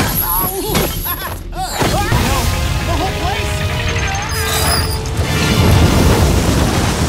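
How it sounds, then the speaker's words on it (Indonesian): The training hall in an animated Kung Fu Panda scene collapses in a loud, sustained roar of booms, crashes and rumbling debris, with voices over the destruction. "Seluruh aula latihan pun hancur."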